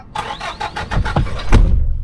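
A truck engine starting up and pulling forward at a loading dock, a mid-pitched rumble with rhythmic bursts that builds and grows louder toward the end, fairly close.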